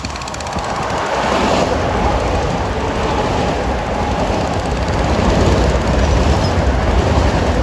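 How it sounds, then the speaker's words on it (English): An M7 commuter train bound from New York to Babylon passes close by at Rosedale, a loud, steady roar of wheels and rattling cars that builds and holds throughout. "here comes train 7052 from New York to Babylon with M7s"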